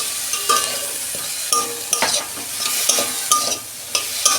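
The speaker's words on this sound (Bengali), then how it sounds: "এই মশলা না এরকম ভেজে নিয়ে আপনারা করবেন" Onion with salt and whole cumin seeds frying in a pan, a bright crackling sizzle punctuated by repeated spatula scrapes and stirs, close and fairly loud, no talking.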